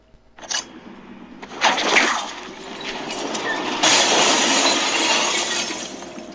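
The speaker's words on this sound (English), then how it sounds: "he cuts it and sends the chandelier crashing down to the lower level" Glass crashes and shatters in a loud burst as a chandelier falls to a lower level in Batman: Arkham Asylum, then a rumbling, sustained roar follows as debris settles.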